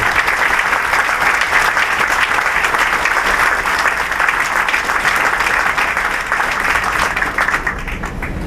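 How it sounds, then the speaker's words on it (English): A union gathering's audience breaks into sustained applause, dense loud clapping from many hands continuing steadily throughout and easing slightly at the end. "So let's give them another round of applause."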